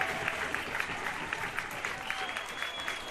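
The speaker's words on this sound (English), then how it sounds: "the St. Thomas crowd has definitely come to life here" Crowd at a St. Thomas high school baseball championship game, clapping and cheering in a steady rhythmic burst of applause, moderately loud, with a commentator's voice faintly under it.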